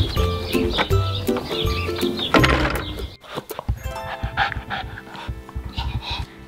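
A dog pants its way through a sizable dog door in an earthbag home, breathy huffs repeating close by amid bumps and knocks, with a louder thump partway through and softer rustling afterward.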